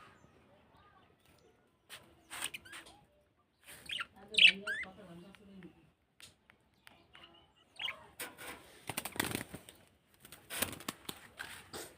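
Small colourful pet birds kept as pairs give scattered thin chirps and tweets in short bursts, fairly quiet and close, with a voice talking in between.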